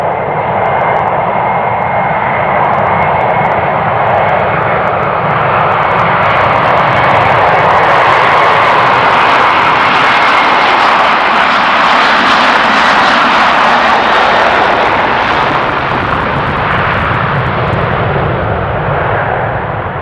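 A jet airliner passes at Amsterdam Schiphol Airport near runway 36L, a loud broad roar that swells to a peak midway and slowly fades, continuous throughout with no voices.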